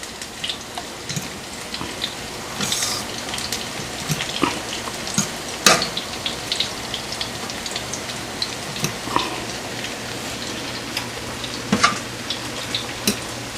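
Mushroom veggie burgers with turmeric sizzling in a frying pan, a steady low crackle broken by scattered sharp pops and the occasional scrape of stirring, with no talking.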